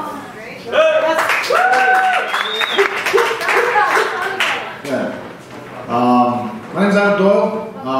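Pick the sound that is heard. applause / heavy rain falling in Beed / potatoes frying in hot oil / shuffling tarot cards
applause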